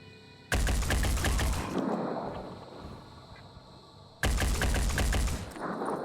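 Long bursts of rapid automatic gunfire in Phoenix Point, two loud sustained volleys of dense rattling shots separated by a quieter stretch of lingering echo and ambience, with no talking.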